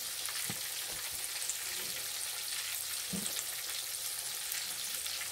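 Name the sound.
food frying in oil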